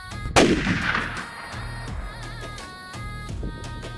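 A single loud gunshot cracks near the start of a scene in a Gujarati mystery short film, then its echo decays into a quiet backdrop with a faint, low, pulsing hum.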